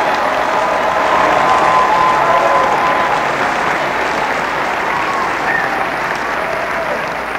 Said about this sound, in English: Come on, let's clap for joy.